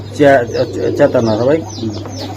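Pigeons of racer and local breeds, kept for sale, coo close by in repeated wavy, throaty calls over steady low background hum.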